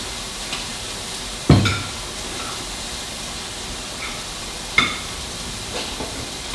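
Steady sizzle of pork frying on a hot Thai barbecue grill pan (mu kratha), with a couple of sharp clanks standing out over the hiss.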